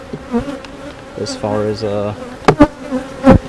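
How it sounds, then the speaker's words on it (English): Honey bees buzz steadily around a ten-frame hive box in a backyard beekeeping yard, a close, continuous drone with a few louder swells, while a person talks briefly over it. "there's bees up here"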